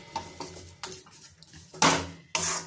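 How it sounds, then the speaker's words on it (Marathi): A spoon scrapes and knocks against a pan as wheat flour roasts in ghee. Irregular close clinks and scrapes, with two louder, longer scrapes near the end, and no talking. "आता भाजून घेऊयात गव्हाचं पीठ"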